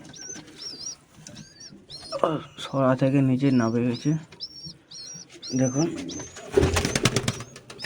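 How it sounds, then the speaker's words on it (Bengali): Pigeons and young pigeon chicks in a loft give soft repeated coos and high thin chirps, close by, while someone talks over them, with a brief clatter of movement near the end. "লফটের ভিতরে আসছি, কিছু বাচ্চা পায়রা হয়েছে"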